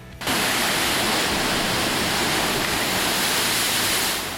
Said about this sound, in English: As the sea comes in, the waves crash into the natural caves.